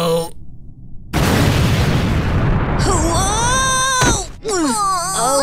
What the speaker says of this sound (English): It exploded in the air!